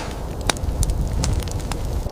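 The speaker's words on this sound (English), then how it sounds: "The crackle of the wood is a comfort" A wood fire crackles and pops, with a few sharp snaps standing out over a steady low rumble of flames and wind.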